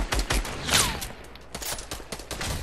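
Rapid gunshots crackle in Fortnite, several close, sharp reports in quick succession over a busy game background.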